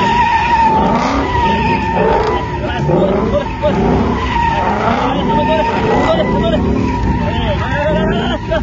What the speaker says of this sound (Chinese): 刚刚野马第一条胎已经甩完了，现在已经见钢丝，准备换胎